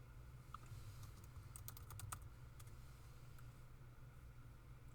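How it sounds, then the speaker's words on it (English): Quiet clicks of typing on a computer keyboard, a short burst of quick keystrokes near the middle over a steady low background hum. "Let's type in, we're going to type in Premier."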